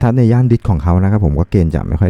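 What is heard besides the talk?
No distinct noise like a dog, phone or traffic.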